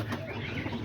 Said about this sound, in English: Nice pigeons.